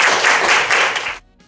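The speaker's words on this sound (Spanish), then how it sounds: "Vamos a darle un aplauso" Audience at a lecture on isotonic solutions in pediatrics and neonatology applauds strongly and briefly, the clapping dense and close, then cutting off abruptly to near silence.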